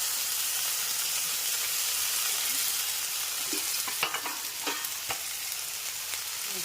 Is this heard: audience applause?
no